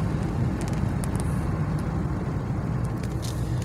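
A car rolls along windy rural Pennsylvania backroads, its steady low engine and tire rumble continuous and close throughout, with no talking.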